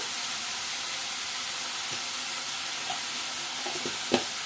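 Curry frying in a pan as turmeric goes in: a steady close sizzle and hiss with a few soft stirring scrapes and a sharp clink near the end.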